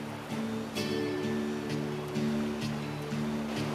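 Steady rushing whitewater on a river below the Bow River Gorge, a loud continuous wash with boat and kayak noises, close and full.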